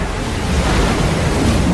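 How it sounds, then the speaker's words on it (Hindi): A huge flood of hot seawater surging after an asteroid impact, heard as a steady, loud roar of rushing water and wind-like noise, continuous and alone with no voices. "जिससे गर्म पानी की भयानक बाढ़ आ रही थी।"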